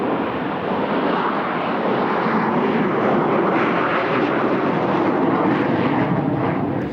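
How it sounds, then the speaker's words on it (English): Harrier II jump jet flying at an airshow, a loud sustained jet roar with broad hiss that holds steady throughout. "It's the Harrier II, and it claims a direct line of descent from the Hurricane."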